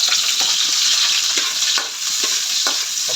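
Loud, close sizzling and frying as ginger goes into a hot pan for coconut-stewed catfish, with a continuous crackle and several scraping stirs at irregular intervals.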